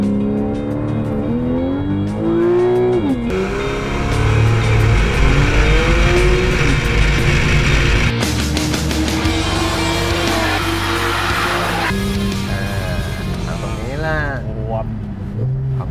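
A Porsche 911 50 Years Edition with PDK paddle-shift gearbox accelerates hard, its loud engine note rising in pitch and dropping sharply at each quick upshift, heard from inside the car while people talk over it.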